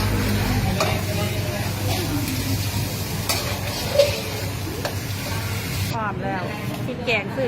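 Curry stir-fried in a pan with pork, a continuous sizzle under scraping and clinking of a utensil against the pan, with a person talking partly over it.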